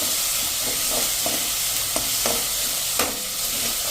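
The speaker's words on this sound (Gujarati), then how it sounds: "આને આપણે સ્લો ફ્લેમ ઉપર આ રીતે થોડીક કચાશ આદુ પેસ્ટ દૂર થઈ જાય ને ત્યાં સુધી કરશું" Ginger-chili paste sizzles steadily in a pan over a slow flame, a dense, even frying hiss broken by a few soft stirring scrapes, with no talking.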